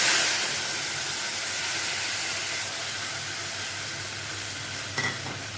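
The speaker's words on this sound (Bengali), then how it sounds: "এখন দিয়ে দিচ্ছি টমেটো আদা লঙ্কার পেস্টটা" Tomato, ginger and chili paste hitting very hot oil with bay leaf and whole cumin, a loud, steady sizzle and hiss that eases slightly over a few seconds, with a brief clatter near the end and no talking.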